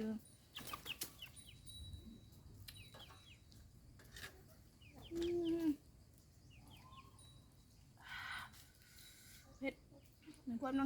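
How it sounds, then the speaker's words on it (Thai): Chickens cluck in short scattered bursts around a rural Thai home, near and fairly quiet, with some talk and other household noises. "ไก่"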